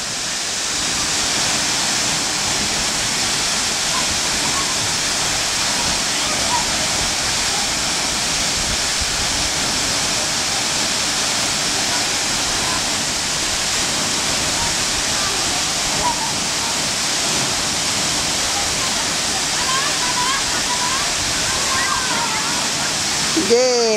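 At Khun Korn Waterfall in Thailand, heavy rushing water roars in a dense, steady wash from close range, and faint voices are heard under the noise.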